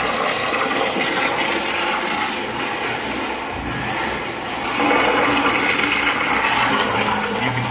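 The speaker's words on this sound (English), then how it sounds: "these urinals are older than dirt as well, and they don't want to flush properly" An old, calcium-crusted urinal flushes with a loud, continuous rush of water that dips briefly midway and surges again, heard close with no talking.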